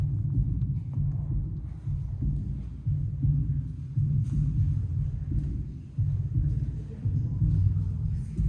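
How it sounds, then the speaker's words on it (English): A recorded real heartbeat plays in an art installation by the sea, a low, constant, throbbing pulse repeating steadily at moderate loudness with no talk. "listening to the constant rhythm of a real heartbeat"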